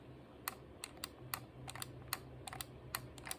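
The recline switch of a Bissell Crosswave vacuum clicking: a series of sharp, quiet clicks at an irregular rhythm, roughly a dozen, over a low steady hum.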